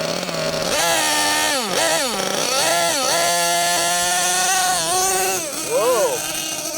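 The small gas engine of a Losi LST XXL2 1/8-scale RC truck bogging, a loud, close buzzing whine that surges and sags in pitch as the throttle rises and falls, with voices speaking over it.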